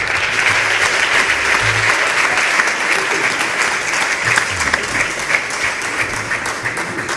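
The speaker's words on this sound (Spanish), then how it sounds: "Pido un aplauso para Pepe Pérez" Sustained applause from a theater audience at a short-film festival gala in Noia, dense and steady throughout, loud and close with no pauses.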